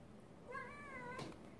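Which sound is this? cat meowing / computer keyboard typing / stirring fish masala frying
cat meowing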